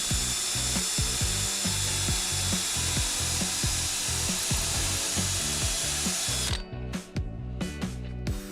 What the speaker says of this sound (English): I'm gonna go ahead and pre-drill the holes just like the other frames and secure it through the face